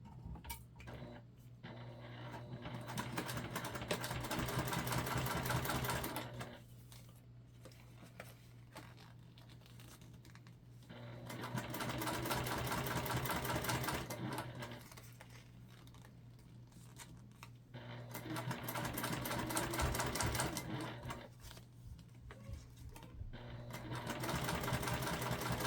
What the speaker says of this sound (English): we'll take it and top stitch just like we did before